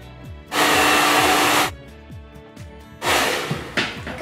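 A hair dryer blows on freshly washed hair in two loud close bursts of roughly a second each, with quieter handling thumps and knocks in the gaps between them.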